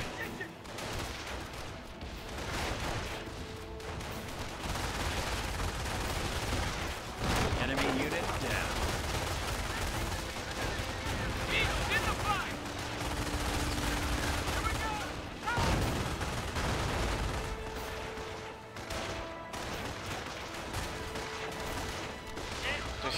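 Sustained battle gunfire in Company of Heroes: Tales of Valor during the Normandy invasion at Carentan, with dense overlapping rifle and machine-gun bursts and heavier booms over a constant wash of combat noise, with voices shouting among the shots.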